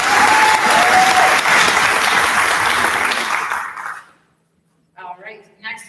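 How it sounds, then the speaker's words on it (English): A concert audience applauds a student musician at a symphonette concert, with steady, full clapping for about four seconds that fades out, followed by a brief pause and a short stretch of nearby speech. "So let's give a round of applause for Blasi."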